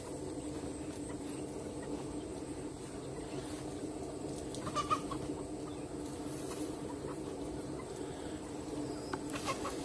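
Cornish cross meat chickens, raised on fermented oats, cluck faintly in the background among a steady low ambient hum, with scattered soft calls and no talk.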